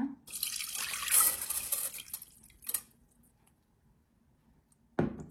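Washed rice being drained through a filter in a kitchen, with a wet rush of pouring water and dripping for the first few seconds, then a near-quiet pause before a short splash at the end.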